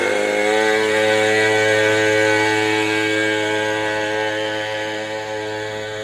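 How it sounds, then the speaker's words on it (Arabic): Engine of a Chinese-made A-310 children's motorbike runs steadily and loudly close by, a continuous buzzing drone with strong harmonics that eases slightly toward the end. "طبعا هي هذه دراجة للاطفال، بس احنا نجربها على مود تشوفوها"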